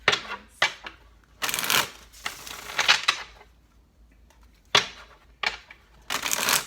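Tarot cards are shuffled in several quick, crisp riffling bursts separated by short pauses, close and clear, with no talking over them.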